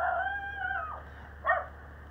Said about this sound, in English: All the dogs are coming.